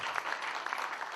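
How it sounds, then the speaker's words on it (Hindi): A crowd gives brisk applause for an actress at a Bhojpuri film audio launch event, a dense, continuous clatter of hands at moderate level, brief and unbroken. "जरा मधु जी के जोरदार ताली बजाइए प्लीज"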